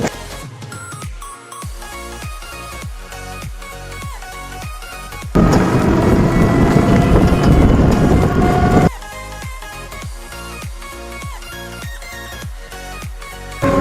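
A train rolls toward Bamanghat station with a steady, rhythmic clack of wheels over rail joints. A louder rushing roar swells for a few seconds midway, then the even clatter resumes.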